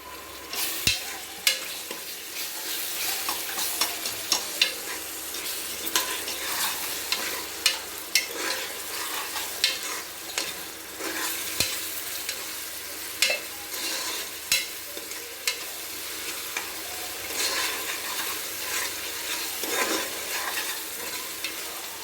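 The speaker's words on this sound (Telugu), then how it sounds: "ఉల్లిపాయలు వేగి చూసుకొని అల్లం వెల్లుల్లి పేస్ట్ వేసుకున్నాం" Onions, green chillies and ginger garlic paste fry in a pan for a curry, with a steady close sizzle and regular scraping stir clicks throughout.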